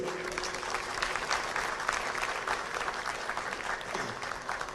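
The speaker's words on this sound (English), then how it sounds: "Can we give a round of applause to all the panelists once again?" An audience applauds the panelists after a discussion, with sustained, moderately loud clapping from a crowd of hands rolling on evenly for several seconds.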